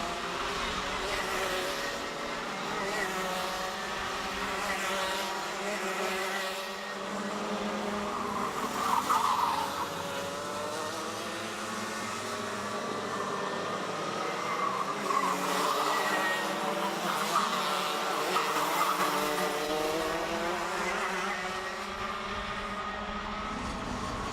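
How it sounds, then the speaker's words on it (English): Junior Max racing karts on a circuit, with high-pitched engines droning and rising and falling in pitch as they pass, at a moderate distance and continuous throughout. "Jason Cousier racing down to SMD turn."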